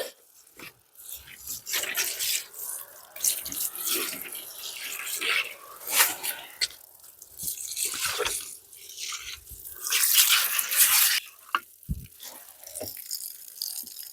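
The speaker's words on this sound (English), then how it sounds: "The trick is you wet it or water it, and then this soil will freeze" Water pours and splashes onto potting soil in a barn window box in winter, an uneven hissing trickle in bursts with drips and pauses, close by, with a dog faintly audible and no one talking.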